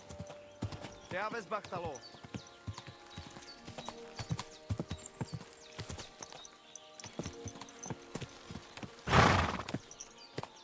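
A horse in the medieval game Kingdom Come Deliverance 2 clip-clops at a walk with steady hoof falls, gives a brief whinny early on, then snorts loudly near the end, while people talk in a foreign language over it.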